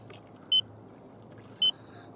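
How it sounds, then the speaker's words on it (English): Two short, clear electronic beeps from a sailboat's autopilot remote control, about a second apart, ring out over a quiet low background hum. "That beeping is me on the remote for the autopilot."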